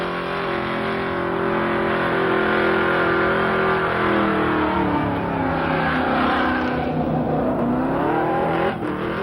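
A car engine revs hard and sustained during a burnout competition at Summernats, loud and close, with pitch rising and falling as the throttle is worked.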